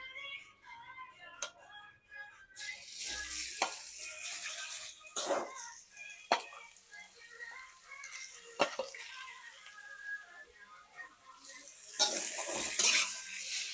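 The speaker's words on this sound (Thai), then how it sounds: "ใส่หมูลงไปผัดก่อนนะคะ" Pork belly stir-frying in oil in a pan, with scraping and clattering of a utensil against metal, a steady sizzle underneath, and occasional louder knocks and hisses, fairly close.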